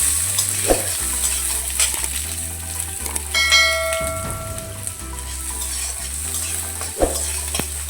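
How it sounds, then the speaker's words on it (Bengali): Chopped onion frying in hot oil gives a constant close sizzle with stirring scrapes, a low mechanical hum, and a brief ringing metallic tone partway through; no talking. "তেলটা গরম হয়ে গেছে, পেঁয়াজ কুচানো দিয়ে দেবো।"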